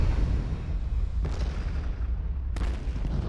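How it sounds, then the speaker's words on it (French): A continuous low rumble of explosions in the video game Destroy All Humans 2 Reprobed, with two sharper blasts bursting out about a second apart, loud and close. "Bon, ça, c'est des explosions, ça."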